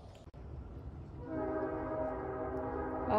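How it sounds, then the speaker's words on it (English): A distant train whistle sounds a long, sustained tone on a snowy morning, starting partway through and holding steadily over a low rumble of rail noise. "Oh, hear that lonesome whistle blow."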